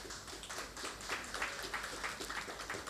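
An audience applauds a professor at a Polish history event, with steady, moderately faint clapping throughout and no talking.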